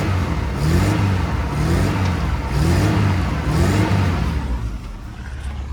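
A stuck 4WD engine revs repeatedly during winching, the close, loud engine rising and falling in rhythmic surges before easing off at the end.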